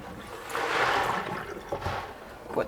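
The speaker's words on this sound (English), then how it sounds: "now I'm going to dump most of the water" Water sloshes and pours out of a container of used LECA clay balls in a short splashing gush, tapering to drips and trickles.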